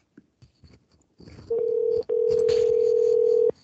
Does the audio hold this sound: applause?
no